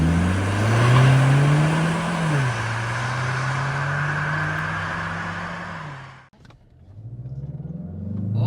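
A 2025 Mazda 3 GT Turbo AWD accelerates hard from inside the cabin, its engine drone climbing through the gears with a clear shift and dip before rising again.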